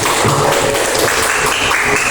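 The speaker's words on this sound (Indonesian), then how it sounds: "Tepuk tangan untuk kelompoknya Mas Faiz" A class of students claps for a group who presented a calligraphy collage made from plastic waste, producing a loud, close burst of mixed clapping with some shifting tonal background noise.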